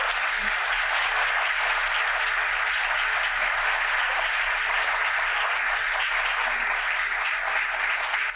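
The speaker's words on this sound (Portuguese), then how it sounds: "uma salva de palmas para todos vocês" A live podcast audience applauds steadily for over eight seconds, a thick, uniform wash of clapping at close range with no speech over it.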